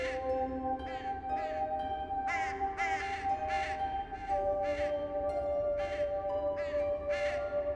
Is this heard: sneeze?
no